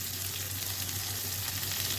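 Young jackfruit pieces fry in a pan with salt and turmeric, giving a steady, soft sizzle throughout with no talking.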